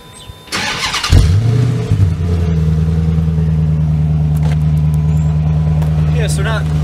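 A 2006 Dodge Magnum R/T engine cranks briefly and fires up, then settles into a deep, steady idle rumble heard close by, with voices in the background.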